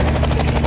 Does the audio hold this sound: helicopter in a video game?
yes